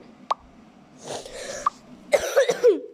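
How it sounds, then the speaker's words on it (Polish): Several harsh coughs close to the microphone, a short one first, then a longer burst and a cluster of rough hacking coughs near the end. "Sorry za kaszel, bardzo przepraszam."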